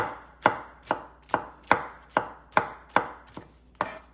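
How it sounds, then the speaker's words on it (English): A knife chops fresh okra into little rounds, nine crisp even strokes about half a second apart, each a sharp close tap with a short decay, alone with no talk. "You could do this, just cut it into little circles"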